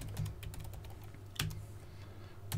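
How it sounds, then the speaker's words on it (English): A password is typed on a computer keyboard, with rapid, light key clicks in a quick irregular run and a couple of heavier keystrokes, close and quiet. "So I need to go to enable and type in the password for this"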